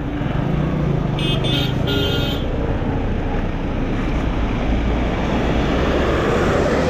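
A Passion Pro motorcycle's engine runs loud and steady, close by, while the bike is stuck on a mountain road near Badrinath, with a brief horn-like tone early on.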